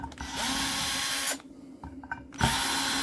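A power tool drills out long set screws from e-waste. A loud, steady whine runs for over a second and stops, a few short bursts and taps follow, and then the tool starts up again at full speed, close and alone.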